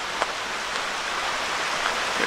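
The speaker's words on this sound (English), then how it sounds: "torrent of water here too. Just coming down. Making its way down." A rushing torrent of water flowing down beside a wilderness hiking trail makes a dense, steady broadband roar, close and continuous with a few brief splashes.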